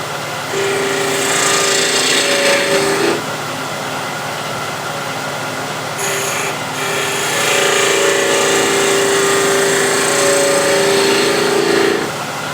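A wood lathe spinning as a tool shapes a small wooden egg, with a steady whirring hiss that swells loudly when the cutter bites and drops back during pauses, close up with no speech.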